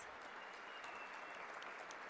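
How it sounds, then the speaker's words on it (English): Steady applause from an audience at a Rare Disease Day event on patient involvement in research, a dense even wash of clapping heard at a distance and fairly faint. "Yes, round of applause."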